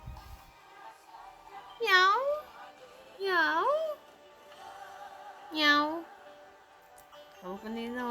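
Kitten meowing, three loud rising-falling meows spaced a second or so apart with a fainter fourth at the end, close by with room noise between.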